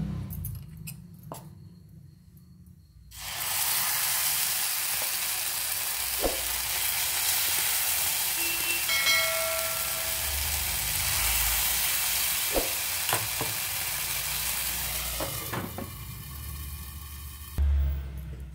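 Moong dal pancakes fry in a little oil in a pan, a steady bright sizzle that starts abruptly after a few quiet seconds, holds for about fifteen seconds with faint occasional clicks, then cuts off near the end.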